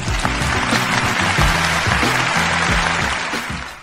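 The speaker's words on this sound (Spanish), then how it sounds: "Le damos la bienvenida y recibimos con un fuerte aplauso a Gerardo" Studio audience applause welcoming a guest on a talk show, loud steady clapping over a rhythmic music bed, fading slightly toward the end.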